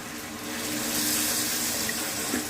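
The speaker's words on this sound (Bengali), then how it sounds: "তো আমি এখন বুটের গায়ে গায়ে পানি দিয়ে দিব," Water pours steadily and fairly loudly onto chickpeas frying in a pan, a continuous splashing gush with no talk.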